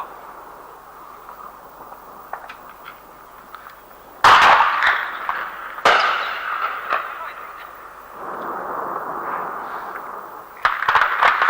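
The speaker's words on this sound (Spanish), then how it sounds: "Siguen las explosiones en el aeropuerto" Booming explosions erupt at intervals at an airport during the Falklands War, over a constant roaring background, with distant crackling blasts and sharp bursts following one another.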